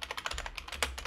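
Fingers type a terminal command on a computer keyboard in a quick, close run of crisp key clicks, about a dozen strokes in a little over a second, with no talking.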